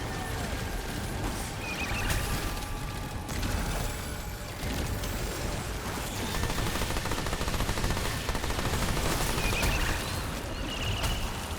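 Sidearm gunfire in the video game Remnant II: dense, continuous battle noise with repeated shots and mechanical clatter, loud and sustained, with no speech over it.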